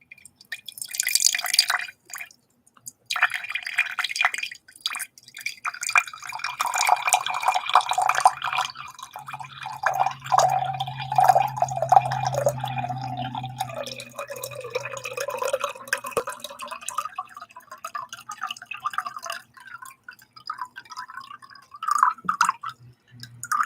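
A drink pours into a bottle holding ice, with close trickling, dripping and a rising fill tone, quiet ASMR-style and alone without talk.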